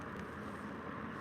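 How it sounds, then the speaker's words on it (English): Cars on the I-70 highway make a faint, steady traffic drone heard from a treestand in the Ohio woods, a low continuous wash with no distinct passes and no talk. "You might hear the cars in the background."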